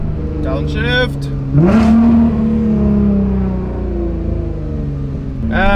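Nissan GT-R R35 downshifting with a blip of revs, then the engine pulling harder as it accelerates, loud and close from inside the car, with someone talking over the engine.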